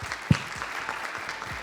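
Audience applause at the 15th International Six Sigma Congress in Brazil, a steady wash of clapping from a conference crowd with one sharper, louder clap near the start, no talk over it.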